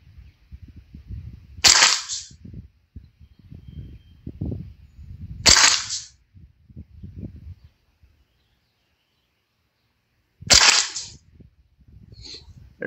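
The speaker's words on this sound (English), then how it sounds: "This gun is shooting so good." A Ruger 10/22 carbine fires Norma Tac22 rounds, three sharp, loud single shots spaced several seconds apart outdoors, with low murmuring and faint background noise between them.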